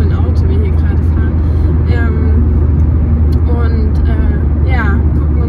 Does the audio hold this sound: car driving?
yes